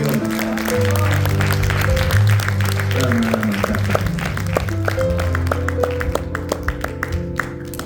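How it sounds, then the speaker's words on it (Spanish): Congregation applauding during an evangelical church service, clapping mixed with sustained organ or keyboard chords and some voices, loud and continuous in a reverberant hall. "Dale un aplauso a Dios."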